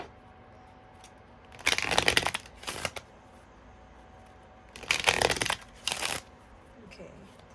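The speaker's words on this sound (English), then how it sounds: "All these cards fell on the floor. I'm gonna just reshuffle." A deck of playing cards is shuffled twice in quick riffling bursts, each lasting about a second and followed by a softer bridging flutter, close and clear against a quiet room.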